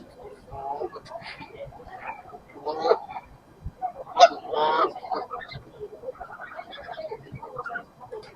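Ducks on the River Thames at Kingston, London, honking and quacking in scattered outdoor calls of moderate loudness, mixed with other waterfowl and light background chatter.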